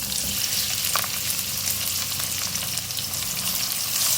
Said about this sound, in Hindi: फ्राई करेंगे इसको।